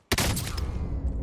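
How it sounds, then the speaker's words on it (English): Automatic Kilo assault rifle fire in Call of Duty, a loud, sharp burst of rapid shots starting abruptly and ringing on for about a second with no talk over it. "I'm getting shot from the right."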